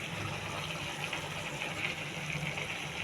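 Water poured into a pressure cooker holding chicken curry with tomato and green chilies, a steady, soft gushing pour heard close and alone for about three seconds.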